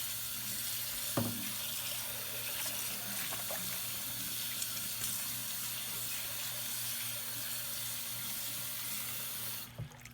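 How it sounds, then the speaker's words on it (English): Tap water runs steadily into a single kitchen sink as dishes are rinsed of soap, a continuous close splashing stream with a brief clatter near the start and a louder gush at the end. "You rinse really well till all the bubbles go away."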